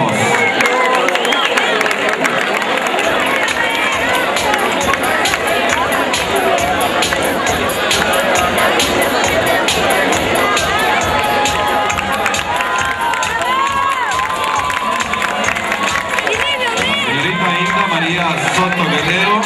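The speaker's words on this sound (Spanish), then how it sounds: "Recibamos con un fuerte aplauso a la candidata número 1" A packed crowd at a parish queen pageant cheers and shouts loudly and continuously for a candidate, with excited voices layered throughout.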